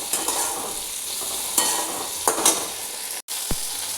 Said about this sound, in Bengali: দেখুন টমেটোটা ভাজা হচ্ছে।